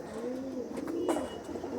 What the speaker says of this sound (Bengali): এবারে আন্ধ্রা পায়রা দেখাচ্ছি বন্ধুরা, দেখুন দুটোই আন্ধ্রা পেয়ার আছে